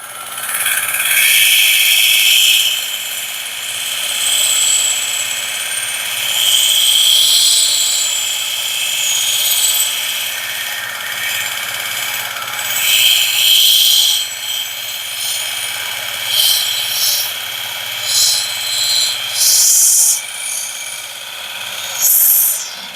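A knife is ground on a Work Sharp sharpener fitted with a tool rest, a continuous loud high-pitched whine and grinding hiss lasting the whole time, shifting slightly as the blade moves.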